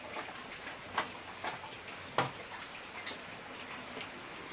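Heavy typhoon rain in Manila pours as a steady, faint hiss, with a few soft drop taps standing out now and then.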